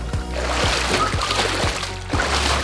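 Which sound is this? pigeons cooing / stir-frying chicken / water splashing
water splashing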